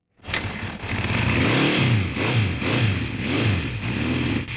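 A 1972 Honda CB750 inline-four motorcycle engine revs repeatedly, rising and falling in pitch in a steady cycle of throttle blips, loud and close with no voices.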